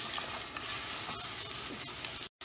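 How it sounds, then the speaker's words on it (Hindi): Marinated mince hits hot oil in a pot and sizzles loudly and continuously, with a brief cut of silence near the end. "अब इसमें हम डालेंगे कीमा जो हमने मैरिनेट किया।"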